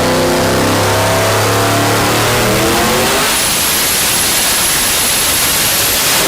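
A tuned, boosted 2018+ Ford Mustang engine on a stock ECU, stock fuel hat and three pumps roars at full load toward 2000 horsepower; a deep rising engine drone turns into a harsh, saturated roar with a high whine, loud and continuous.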